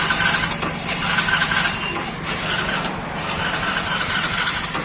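A vehicle engine cranks on its self-starter and runs during an ECU check, a loud, continuous mechanical rumble close by with a rough, buzzing texture and no talking.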